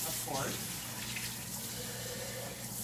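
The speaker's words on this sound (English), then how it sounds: "I'm going to go over here and rinse these beauties out." Water runs from a kitchen tap over almonds being rinsed, a continuous broad splashing rush that stays steady throughout.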